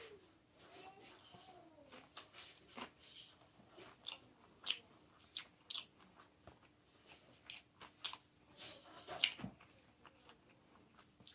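Convenience store gimbap being bitten and chewed up close, soft crunchy bites and mastication in irregular bursts, with faint voices in the background.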